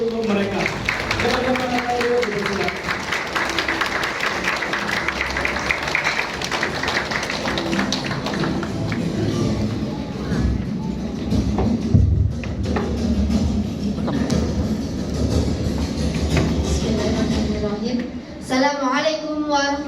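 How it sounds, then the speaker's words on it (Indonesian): An audience at an Indonesian seminar claps in sustained applause while standing to welcome the mentors, dense and loud, thinning out toward the end as a voice cuts in. "kita sambut mentor-mentor kita yang luar biasa dan kita berikan aplaus terbaik untuk mereka"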